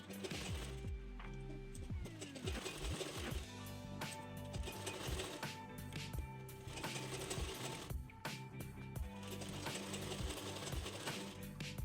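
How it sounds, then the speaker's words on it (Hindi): Blouse fabric for a four-tuck belt blouse runs through a sewing machine with continuous mechanical whirring and rapid ratcheting clicks, nearby and steady throughout with brief pauses. "अब हम यहाँ पर सिलाई लगा लेंगे।"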